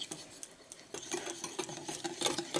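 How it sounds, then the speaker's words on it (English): Turbinado sugar whisked into sour cream in a bowl for an Instant Pot cheesecake topping, a quick run of close, scraping and clinking whisk strokes that grows busier and louder toward the end. "whisk this together"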